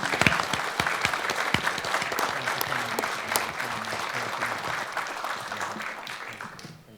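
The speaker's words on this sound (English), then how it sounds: "let's give them a little round of applause" An audience at a panel discussion on religious persecution gives the panelists a round of applause, a steady wash of many hands clapping that holds evenly and then fades at the end.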